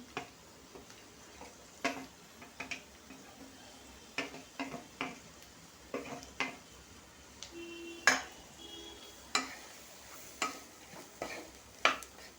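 Vegetables and tomato cook in a pan with chili powder and turmeric, a low sizzle beneath sharp, irregular clinks and scrapes of a spoon stirring against the pan, quiet and close.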